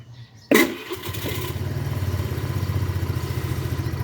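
A Flex 125i motorcycle engine starts with a sharp crank and catch, then settles into a steady, close, rhythmic idle that pulses evenly until the end, with no voices.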